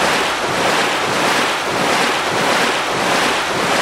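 Loud, continuous crashing ocean surf from the video game Rune Factory: Oceans, a steady broadband roar of breaking waves with gentle swells in intensity, heard alone with no talking.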